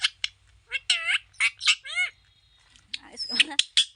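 A pet parrot lets out a burst of shrill, piercing squawks and chattering calls, close and loud, in quick irregular bursts with a short pause midway.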